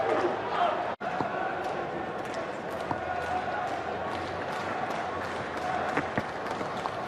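A cricket crowd of Australian fans cheers and applauds Glenn McGrath's boundary hit, a steady wash of clapping and crowd noise with scattered sharp claps throughout.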